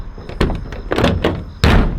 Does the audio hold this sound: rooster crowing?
no